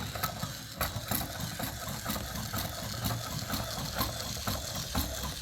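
Small robot motors spinning in reverse from a robotics and programming course, a steady whirring mechanical drone with rapid ratcheting clicks, moderately loud and continuous, no voices.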